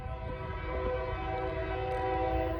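A Norfolk Southern freight train sounds its horn in a sustained, loud, chord-like blast, with the rumble of the passing train underneath throughout.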